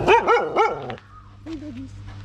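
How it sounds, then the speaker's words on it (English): Dogs bark three times in quick succession near an outdoor path on Bang Krachao, Thailand, then a softer whine and distant yips follow. "We got doggies."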